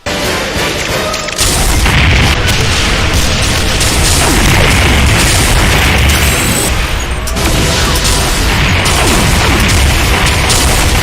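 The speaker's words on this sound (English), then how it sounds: "It can fire legendary rockets. It fires legendary plasma shots." A Revenant variant in a modded DooM game fires legendary rockets and plasma shots, producing a dense, loud, continuous barrage of booming blasts and crackling impacts that barely lets up for the whole stretch.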